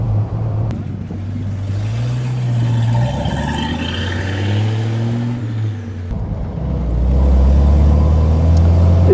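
A 1940 armoured Mercedes 770 open touring car, over two metres wide and six metres long, drives with a deep engine rumble that rises and falls through gear changes, then swells louder near the end.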